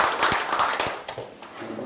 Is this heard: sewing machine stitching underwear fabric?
no